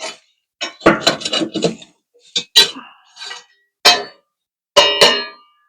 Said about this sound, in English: Clean out just a little bit of the ashes